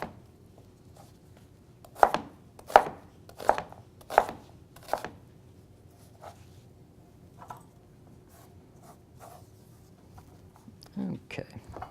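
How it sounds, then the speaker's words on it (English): Knife chopping a sweet onion into quarter-inch pieces on a cutting board: several sharp, close chops in quick sequence early on, then lighter scattered taps, with a soft rustle at the end. "And so I'll go ahead and cut this up about 1/4 inch size"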